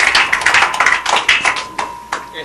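A few people clap at a church forum, sparse uneven claps close to the microphone, fairly loud and distinct rather than a full crowd, fading out after a couple of seconds.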